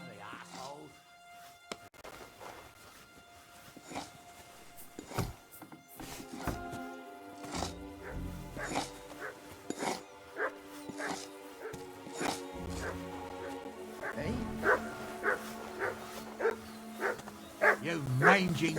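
A dog in Kingdom Come: Deliverance II barks, yips and whimpers in scattered bursts that grow louder toward the end, mixed with game sounds and spoken character dialogue.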